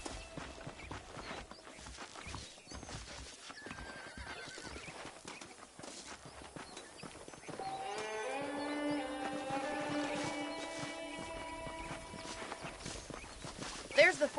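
Saddled horses in the Red Dead Redemption video game, with a faint clip-clop of hooves and a whinny amid game ambience, then a swelling orchestral music bed from the eighth second on.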